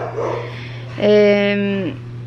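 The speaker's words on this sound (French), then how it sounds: "c'est atroce comment qu'elle jappe là" A small female dog lets out a single drawn-out, whining yelp lasting under a second, close to the microphone over a steady low hum, preceded by faint background noise.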